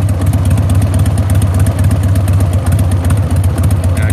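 Loud, close rumble of a warmed-up 1999 Harley Davidson Sportster 1200 V-twin idling at about 1,000 RPM, an even, lumpy pulsing beat held throughout.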